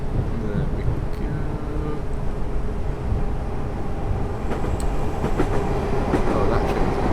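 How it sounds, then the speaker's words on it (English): A Class 455 electric train passing in Train Simulator 2014, a dense continuous rumble of rolling stock with faint rhythmic wheel clicks, loud and steady throughout. "that train's gonna stop"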